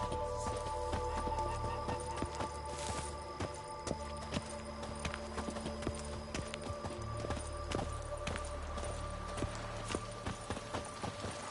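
Horse hooves clip-clop steadily and close in The Witcher 3: Blood and Wine, beneath a continuous game soundscape.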